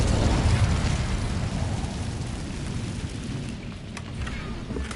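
Incendio fire spell in Hogwarts Legacy, a dense roaring whoosh of flame that is loud at first and slowly tapers over five seconds, with a crackling, rain-like texture throughout.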